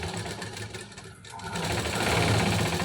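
Sewing machine stitching a saree petticoat, two fabric pieces joined along one side: a steady, close, continuous motor whir that dips briefly near the middle and then runs louder and denser to the end, with no talk.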